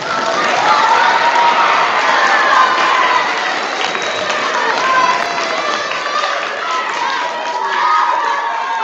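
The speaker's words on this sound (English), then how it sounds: "You may now applaud." An audience at a school spelling bee claps and cheers loudly after round one. Dense, sustained applause mixes with shouts and children's voices and holds steady throughout.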